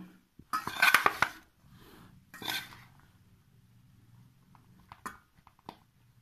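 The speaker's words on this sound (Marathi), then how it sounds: "मिक्सिंग करून घेऊ चांगलं एकदम" Sabudana khichdi with ground peanuts is stirred in a bowl: a spoon scrapes and clinks against it in a few short bursts, with quiet pauses between.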